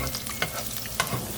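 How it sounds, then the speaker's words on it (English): Garlic frying in a pan at the start of cooking pad Thai, a soft steady sizzle with a couple of brief scraping stirs of the utensil, quiet and close with no talk. "First start cook garlic."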